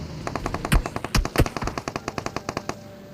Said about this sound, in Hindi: मेरे पे पीछे से फायरिंग आती है